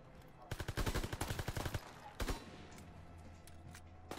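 Rapid automatic gunfire in Call of Duty WW2, a dense burst of about a dozen sharp shots lasting over a second, followed by a brief pause and a single heavier report, moderately loud against quiet background.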